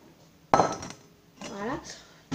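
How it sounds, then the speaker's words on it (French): A saucepan is handled on a kitchen stove while making edible glue with gelatine, giving a sharp metallic clank followed by softer rattling and clinking, with a voice speaking in between. "je vais récupérer ma casserole"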